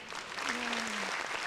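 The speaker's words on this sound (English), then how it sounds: "Round of applause." Studio audience at a comedy talk show breaks into a short round of applause, steady and fairly close, with a voice speaking briefly over the clapping.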